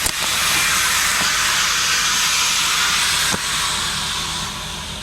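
Steady, loud crackling hiss of an arc welder running continuously, with a brief sharp pop partway through and a slight drop in intensity near the end.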